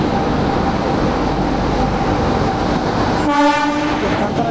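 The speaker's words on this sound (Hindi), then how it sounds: "हमारी ट्रेन भी आ गई" Poorva Express passenger train arriving at a station in India, a loud continuous rumble of rolling wagons, with a strong horn blast sounding near the end.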